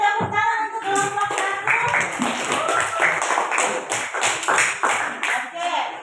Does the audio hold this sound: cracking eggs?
no